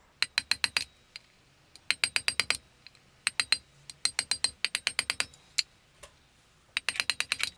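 A steel wheel bearing hammered into its seat on a motorcycle wheel rings out in rapid bursts of sharp metallic strikes, five to eight blows per burst with brief pauses between, close and bright.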